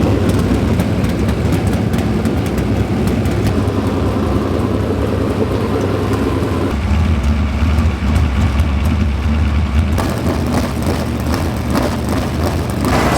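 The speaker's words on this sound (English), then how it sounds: "We got the new car all fired up for some engine heat" A race car fired up in the Eldora Speedway pit area ahead of the Kings Royal, its engine idling and running loud and close for warm-up heat, a steady rumble with a change in tone partway through.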